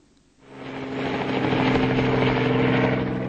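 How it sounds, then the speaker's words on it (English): Helicopter flying over open Australian desert to drive camels away from a town, its rotor chop and engine roar swelling in after a brief quiet start and holding steady and loud. "Australian authorities use helicopters to scare the camels away from the town into the open desert"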